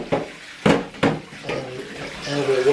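Water splashes and sloshes while a Henry 160 vacuum cleaner hose is washed, with a few sharp clattering knocks against a hard surface, close by and under steady running water.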